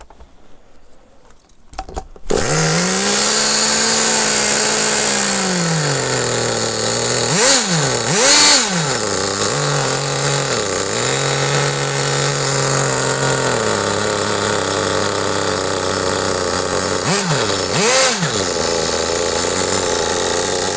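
A PureTen Alpha3 nitro RC car engine starts and runs loud and close, a high buzzing whine held steady with several sharp revving blips and returns to idle.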